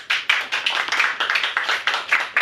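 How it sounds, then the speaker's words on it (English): A small group clapping, quick irregular hand claps close by, alone with no talking. "Big round of applause"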